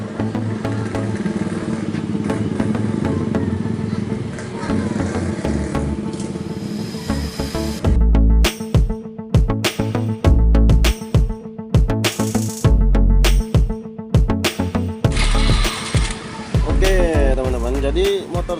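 Yamaha RX King two-stroke motorcycle engine with a badly damaged crankcase, running steadily and then revved in repeated sharp bursts with a loud, harsh knocking rattle, close by with no talk.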